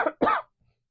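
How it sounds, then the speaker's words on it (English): Two quick, close coughs in a row, the second fuller and longer, followed by silence. "Excuse me, I'm going to cough."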